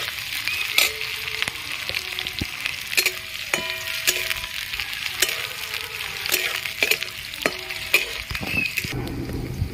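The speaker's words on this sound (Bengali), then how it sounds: "পেঁয়াজ দিয়ে দিচ্ছি, সামান্য আদা কুচি দিয়ে দিচ্ছি। ভালো করে ভেজে নেব।" Onion and chopped ginger fry in a pan with a continuous crackling sizzle, broken by repeated sharp scrapes and clacks of a spatula stirring, close by.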